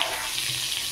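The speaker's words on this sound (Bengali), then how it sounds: "এবার এই তেলের মধ্যে আলুগুলো দিয়ে দিলাম।" Potato pieces frying in hot oil left from frying bhetki fish, a continuous bubbling sizzle with soft crackle, steady and close, with no voices.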